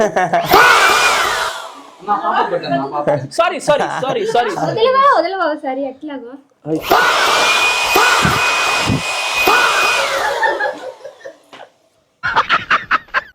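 An electric air gun blower inflates a large balloon in loud, sustained rushing bursts, with a shrill whine over the roar, broken by gaps where people talk and shout excitedly.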